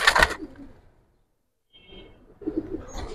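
Giribaz pigeons coo inside a loft, with a close burst of calls at the start, a brief silence, then softer cooing returning toward the end.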